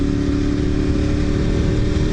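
A 2008 Ducati 848 motorcycle with a V-twin engine runs steadily close by, its deep, even engine note thrumming continuously without a break and with no voices over it.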